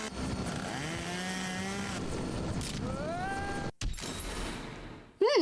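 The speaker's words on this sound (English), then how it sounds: "Chainsaw?" A chainsaw in the Henry Stickmin Collection video game, a loud continuous engine drone with rising and falling revving pitch sweeps, steady throughout and cut off abruptly near the end.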